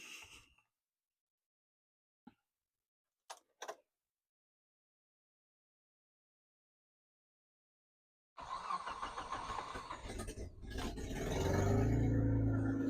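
A Nissan Patrol GQ with a blown exhaust cranks with a few brief ticks, then fires and settles into a loud, raspy idle that swells in the final seconds, with no talking.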